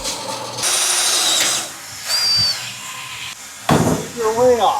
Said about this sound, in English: We know right where we're going to drill our 1/2-inch holes.